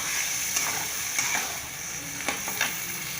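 Cooked green broad beans go into a hot pan, giving a constant loud sizzle with several light scrapes and clinks of stirring.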